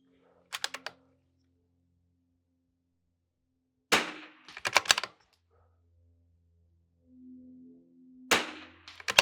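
Rifle shots at an NRL22 range match, sharp distant cracks in three brief clusters spaced across a mostly quiet stretch, with faint low murmurs between them.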